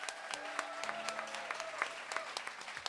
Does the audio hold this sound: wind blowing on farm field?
no